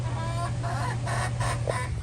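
Black Silkie hen clucking softly inside a chicken coop, a few low murmuring clucks over a steady background hum.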